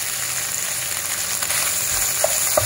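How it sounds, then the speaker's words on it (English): Sliced onion and garlic frying in a pan, a continuous bright sizzle at steady level with a couple of faint clicks near the end, no talking. "First, you fry the sliced onion and garlic."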